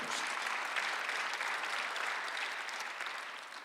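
Worshippers at a Sunday church service applaud together, a sustained, dense clapping from a large crowd that stays even and tapers slightly toward the end.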